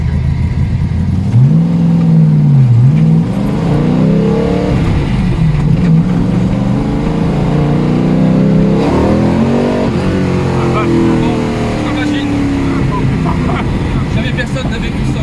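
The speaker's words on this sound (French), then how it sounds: "c'est une voiture de course homologuée" A homologated race car's engine drones loud and close throughout, climbing in pitch through the gears with rising and falling revs, while occupants talk over the cabin noise.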